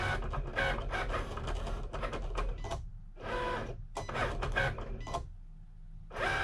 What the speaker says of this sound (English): So now it's cutting out the gift box piece.